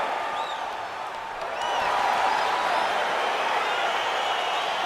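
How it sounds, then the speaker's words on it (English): Virtual arena crowd in EA Sports UFC 4 roars and cheers steadily as a fight begins, a broad continuous swell that grows louder partway through. "crowd getting excited as this fight gets underway"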